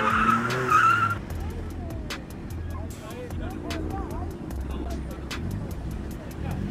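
A car drifts at a motorcycle drag racing event, tires skidding and squealing through repeated screeches over a rumbling engine, with voices talking nearby at the start.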